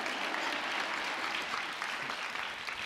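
An audience at a YouTube Creators for Change event claps steadily for a few seconds, a dense, even patter of applause heard alone.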